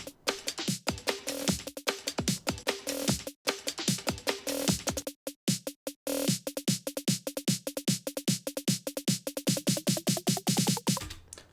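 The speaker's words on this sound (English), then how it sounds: "Near the build, we actually get this snare build," A snare drum build in an electronic track rolls in rapid, rhythmic hits that pause briefly near the middle, then accelerate into a dense, rising roll toward the end, loud and with no voices.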